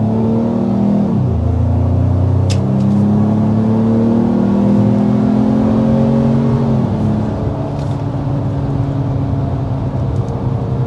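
A 2025 Ford Maverick truck in sport mode accelerates hard from inside the cab. The engine note climbs steadily, drops at a gear shift, then rises again, loud and continuous without talk.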